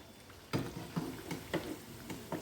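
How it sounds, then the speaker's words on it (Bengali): Egg pakoras fry in oil on low flame, giving a faint steady sizzle with soft periodic clicks and stirs, quiet and close, with no voices. "আমি সম্পূর্ণ ডিমগুলো ভেজে নিই তোমাদের কাছে"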